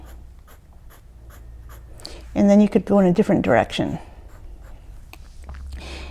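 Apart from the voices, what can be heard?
pencil hatching and cross-hatching strokes on paper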